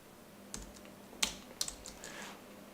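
Someone types on a computer keyboard while coding in Python, and the keys give a few sparse, sharp clicks close to the microphone in a quiet room.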